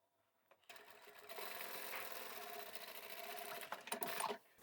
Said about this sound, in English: I'll backstitch here, end my work, move on up a little bit, backstitch, and continue to the end.